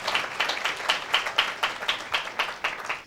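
Worshippers at a Hindi-language communion service clap in honor of Jesus, a modest group producing distinct, fairly regular hand claps at moderate volume with a small room ambience.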